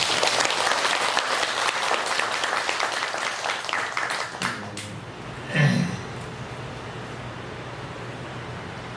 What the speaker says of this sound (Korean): 그리고 박수를 보냅니다.